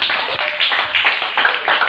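A church congregation clapping for Jesus, dense overlapping handclaps in a lively steady patter, close and loud with no voices on top.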